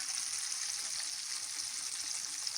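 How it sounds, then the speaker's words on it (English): Chicken pieces frying in hot oil for crispy zinger shawarma, giving a steady, dense sizzle that stays even and fairly close throughout, with no talking. "And now put our chicken in hot oil."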